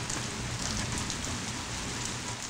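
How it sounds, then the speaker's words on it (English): Rain pours in Sukur, Africa, during a wet month of about 240 millimetres, a dense, even hiss of falling water that fills the whole stretch without pause. "It rains 240 millimeters in a month."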